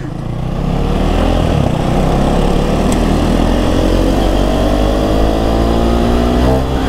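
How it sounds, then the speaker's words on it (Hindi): A KTM Duke 390 motorcycle fitted with a full exhaust rides through city streets, its engine droning loud and steady up close, with a rising rev toward the end. "भाई एग्जॉस्ट का भी लगा। अरे बाप रे बाप, फुल एग्जॉस्ट का फील भाई।"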